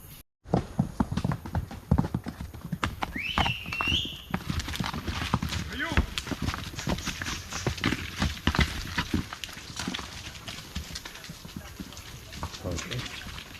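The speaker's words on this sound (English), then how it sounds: "Oh, I can hear more horses coming." Horses approach on a jungle trail near a waterfall, hooves clip-clopping in a steady uneven patter under outdoor ambience, close and fairly loud, with people talking over the hoofbeats.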